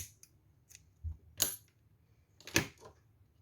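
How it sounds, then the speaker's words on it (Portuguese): Crochet yarn is snipped with scissors in two short, crisp cuts heard close in a quiet room, with a few faint handling clicks between them. "Vou cortar."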